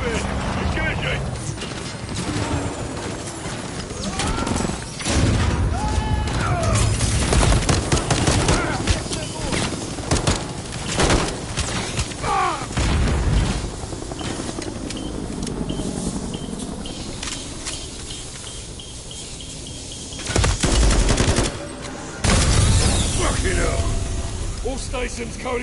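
Bursts of automatic gunfire aimed at a helicopter in Call of Duty: Modern Warfare 3, loud and intermittent, with clattering mechanical noise and battlefield effects mixed under radio-style voices talking.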